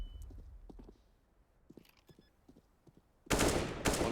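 Loud bursts of AK rifle fire from a Counter-Strike match on Mirage at a pro esports event, starting after a quiet stretch of faint in-game sounds and continuing as a dense rattling volley to the end.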